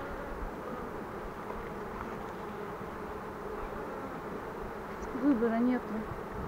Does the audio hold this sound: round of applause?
no